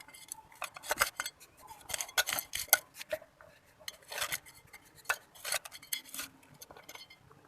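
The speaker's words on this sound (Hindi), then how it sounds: "इसकी मिट्टी की गुड़ाई कर लेते हैं थोड़ी" Potting soil in a plant pot loosened with a small hand tool, a series of close, scratchy scraping and clinking strokes in uneven bursts, with no voices.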